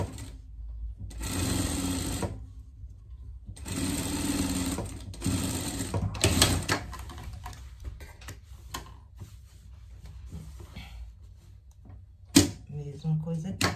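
A sewing machine stitches a fabric pet vest in two quick, loud whirring runs of rapid needle ticking, then slower, softer stitching and handling noises with a few clicks.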